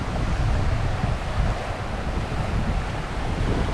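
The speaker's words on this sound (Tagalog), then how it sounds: "Ayaw kumalmada, mahangin." Strong wind roars steadily into the microphone over the constant rush of crashing sea waves on the coast at Siruma, Camarines Sur, loud and continuous with no voices.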